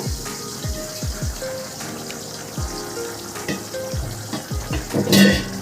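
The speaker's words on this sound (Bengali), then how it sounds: "ঝোলটা খুব সুন্দর ফুটতে শুরু করেছে" Potato and cauliflower curry gravy bubbling in a pan, with repeated low blub-blub pops of boiling liquid under a steady hiss, close, ending in a brief louder splash-like burst; nobody speaks.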